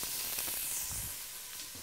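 Onion and bacon mixture sizzling gently in oil in a pot, a soft, steady hiss with faint crackles throughout, heard alone without talk.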